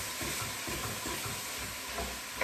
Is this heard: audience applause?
no